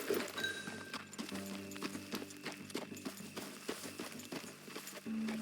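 Horse hooves clip-clopping in Red Dead Redemption 2, a steady close rhythm of hoofbeats with a brief whinny early on and faint game sounds behind.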